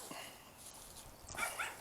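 Dogs bark at a squirrel on a telephone pole, giving a few faint, distant barks and yips over a quiet background.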